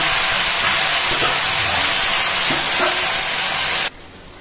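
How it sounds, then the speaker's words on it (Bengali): Taro greens dropped into hot oil with a tempering of whole coriander and dried red chillies: a loud, continuous, dense sizzle and hiss with faint stirring knocks, cutting off abruptly near the end. "এবার আমি এখানে কচু শাকটা দিয়ে দিচ্ছি"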